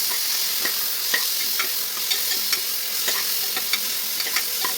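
Chopped fenugreek leaves fry in a pan with a continuous loud sizzle, while a spoon stirs them, making light regular taps and scrapes against the metal throughout.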